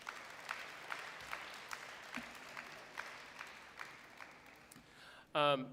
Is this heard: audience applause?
yes